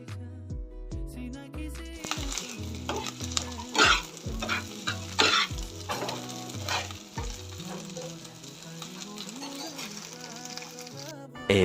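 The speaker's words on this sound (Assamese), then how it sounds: "ইফালে মই বনাই আছোঁ মোৰ ষ্টাইলত পেটু ভাজি মানে মাছৰ পেটু ভাজি" Fish belly fries in oil in a pan with a constant crackling sizzle, while a utensil scrapes and stirs it in repeated strokes; voices and other indoor sounds can be heard alongside.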